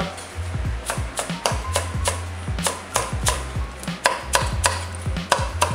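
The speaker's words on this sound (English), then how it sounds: "Get our herbs cut." Fresh herbs chopped with a knife on a cutting board for a Thanksgiving turkey, giving a steady run of close, crisp blade knocks at an uneven rhythm, alone with no voices.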